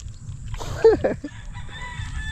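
A rooster crows once at a farm market in the countryside, a close, rising-then-falling call of about half a second over steady background noise and distant activity.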